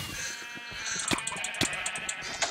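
Sheep bleating in the Minecraft Sheep Quest minigame, several loud wavering bleats repeating close together over a continuous game background with no talk.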